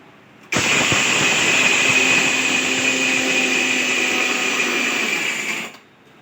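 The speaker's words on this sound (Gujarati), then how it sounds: "હવે આપણે સાકરને મિક્સરમાં દળી લેશું" A mixer grinder pulverises sugar into powder for a Kathiyawadi sweet mango pickle, running as a loud, steady high-pitched motor whine with a gritty roar that starts abruptly, holds for about five seconds, then winds down.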